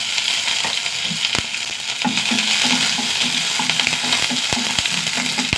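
Mustard seeds, curry leaves and green chilli sizzle steadily in hot oil for a Malayalam-style upperi, with a continuous crackling hiss, sharp popping bursts from the seeds and occasional stirring clatter, close and loud with no talking.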